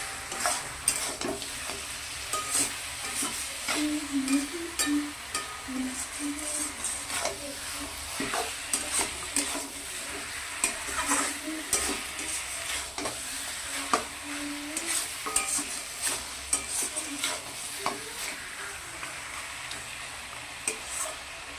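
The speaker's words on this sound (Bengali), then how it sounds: "আর দিয়ে দিচ্ছি একটু মিট মশলা। ভালো করে নাড়াচাড়া করে নেব।" Mutton cooked with meat masala and cumin powder is stirred in a frying pan, a steady sizzle with repeated scraping strokes of the stirring spoon throughout, close and moderately loud with no talking.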